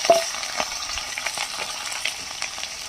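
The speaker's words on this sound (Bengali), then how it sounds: "এই যে কড়াই তেল দিয়ে দিয়েছি, এবার আমি আলুগুলোকে ভেজে নেব।" Potatoes frying in oil in a wok, a faint continuous sizzle broken by light spatula scrapes and small taps, quiet and close.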